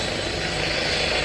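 A Daimler-Benz-powered Bf 109 fighter at a flying display gives a loud, steady, unbroken engine roar, dense and close, with no talking.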